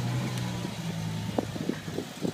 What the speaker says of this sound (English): Listen to a little bit of S85 V10 here for a minute.